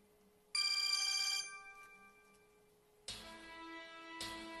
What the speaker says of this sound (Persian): تلفن رو جواب ده.